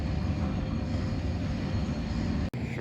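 Railway wagons rolling through a port area near cranes in Vyborg, a steady broadband rumble with continuous rolling noise, fairly loud and close, briefly cut off near the end.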